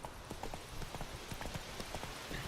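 Horse hooves clip-clopping in The Witcher 3: Wild Hunt, a brisk regular trot of sharp close hoof strikes over a faint game soundscape.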